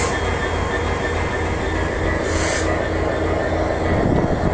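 A train hauled by locomotive 6639 American Giant rumbles loud and steady at close range, with a brief high squeal partway through.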